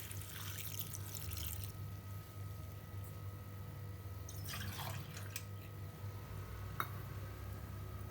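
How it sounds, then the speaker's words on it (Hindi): Water from two glasses is poured into a pot of jute leaf saag, giving soft splashing and trickling in short bursts near the start and middle, quiet over a low steady hum. "और 2 गिलास हम पानी दऽ देबै एहिमे"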